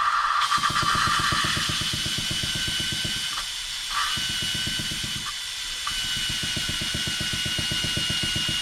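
An engine valve is spun back and forth against its seat with lapping compound, giving a rapid, gritty rasping that runs in repeated bursts with brief pauses between them, close and fairly quiet.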